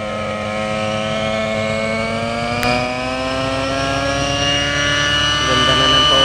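A Trex 600 LE RC helicopter with an OS55 glow engine and boost pipe runs after tuning. The close, loud, steady buzzing whine holds throughout, with a slight rise in pitch near the end.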